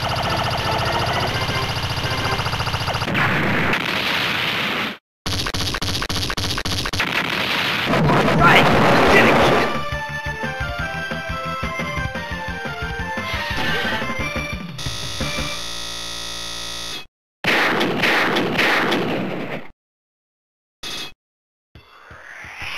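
Shots and explosions from the arcade shoot-'em-up DonPachi: loud, dense, continuous blasts and rapid fire layered over electronic game music, with abrupt drops to silence near the end.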